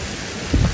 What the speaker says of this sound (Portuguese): Ainda bem que essa chuva caiu, né? Antes de nós ir pra praça.